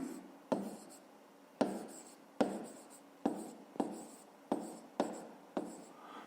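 A math equation is written out for a fifth-grade exercise, probably chalk on a board: about eight distinct strokes, each a sharp tap fading into a scratchy drag, steady and close, with no talking.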